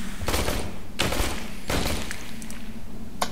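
Gunfire in the video game Aliens: Colonial Marines, played co-op on PC, comes as a few heavy, booming bursts of shots with gaps between them over a low steady game rumble.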